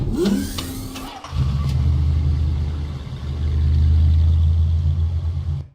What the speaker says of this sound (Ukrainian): Виїхала велика рожева грузова машина.